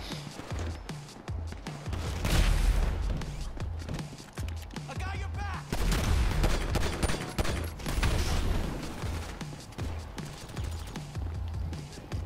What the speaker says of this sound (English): Help me! I'm getting shot up!